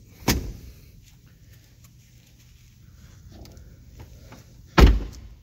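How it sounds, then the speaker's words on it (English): A seat or center storage lid being closed in a 2016 Porsche 911 Targa 4 GTS interior, heard as two separate sharp thuds a few seconds apart, close-up, with faint soft handling noises between them. "we're gonna go ahead and close the seat"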